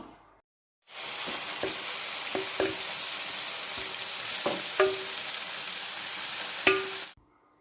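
Marinated chicken goes into a pan of frying masala for a chicken masala gravy, raising a steady loud sizzle with several sharp clinks and scrapes of a spoon against the pan, and no voices.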